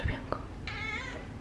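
A white cat gives a short, clear meow close by, following a soft bump and a brief murmured voice.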